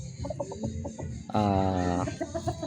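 A Boston Roundhead gamefowl rooster clucking up close, a series of short rhythmic clucks broken by one longer, louder drawn-out call, then more clucks.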